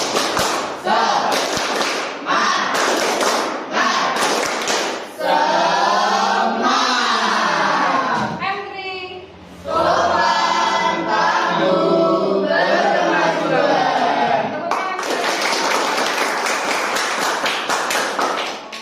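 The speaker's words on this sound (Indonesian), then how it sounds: "Kita lakukan tepuk semangat." A classroom group claps in rhythmic patterns between bursts of loud chanting voices, the claps sharp and close, stopping and starting with the chant.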